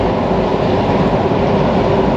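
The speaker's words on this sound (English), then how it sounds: "There's one of the electric trains going over" An electric commuter train crossing a long multi-span river bridge, a loud continuous rumbling roar with no break, heard fairly close.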